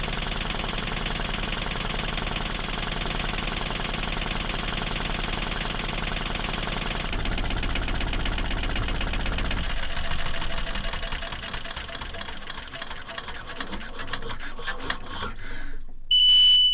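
The old engine of a 55-year-old sailboat runs steadily in forward gear, a continuous loud rumbling drone with a rhythmic knocking texture, the tone shifting partway through as the load changes.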